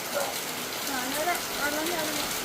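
Rain pours outdoors in a constant soft wash, close and uniform, while a faint voice murmurs beneath it.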